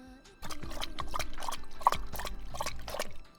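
Water trickles and gurgles in a series of quick, rhythmic splashes for about three seconds, close and clear, alone without talk.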